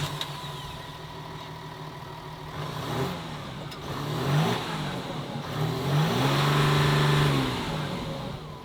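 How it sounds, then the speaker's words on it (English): A Ford Ranger V6 engine idles, then revs in several rising and falling bursts, each swelling louder before dropping back, heard up close with no talking. "Scott, fire it up, give it some revs."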